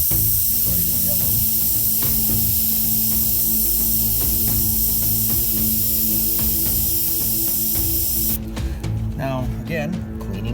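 An airbrush hisses steadily as paint, including yellow highlights, goes onto a 1978 Chevy van, a continuous close spray that runs for most of the stretch and breaks off near the end amid a few clicks and handling noises.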